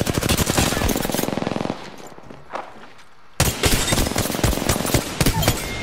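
Rapid automatic gunfire in the video game Apex Legends, dense bursts of shots in close succession with a brief lull in the middle before a loud volley resumes.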